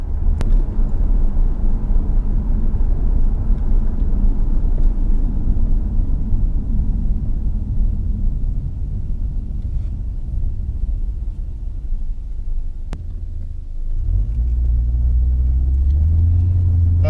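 A 1990 Mazda Eunos Cosmo 20B Type S with a three-rotor engine and automatic gearbox cruises on a road, giving a steady, loud low engine rumble with road noise and a deeper swell near the end.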